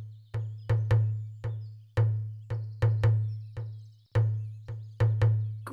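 A child drumming a heartbeat-style beat in a drum circle: sharp, loud hand-drum hits over a steady low hum, spaced in uneven pairs and singles, close and alone.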